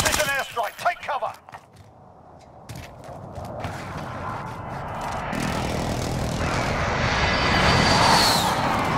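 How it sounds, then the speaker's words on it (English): Jets from a precision airstrike in Call of Duty Warzone roar overhead, their rushing engine noise building steadily louder over several seconds after a brief burst of voice and gunfire-like clatter. "Enemy precision airstrike, take cover!"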